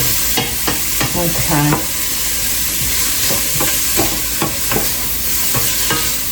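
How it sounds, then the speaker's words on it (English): Chopped onions, celery and carrots sizzle and sweat in a soup pot, a steady close hiss with scattered stirring clatter and a brief spoken word. "onions, celery, carrots, sweating beautifully"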